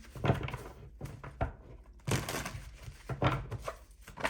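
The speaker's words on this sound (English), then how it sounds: "Let me shuffle because these cards are being weird." Tarot cards shuffled by hand in several quick bursts of papery riffling and slapping, close and moderately loud, with short pauses between bursts.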